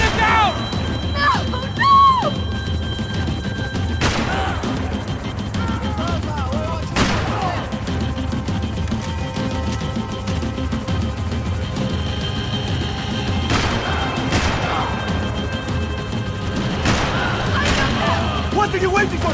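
Gunfire crackles through a chaotic Max Payne 3 action scene, with repeated shots and a few louder bangs over constant rumbling noise while voices shout.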